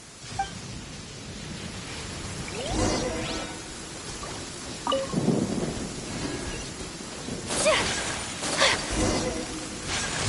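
A thunderstorm with rain in the video game Genshin Impact: a steady windy, rainy wash carries sharp thunder cracks and rumbling bursts, growing heavier toward the end, with no voices.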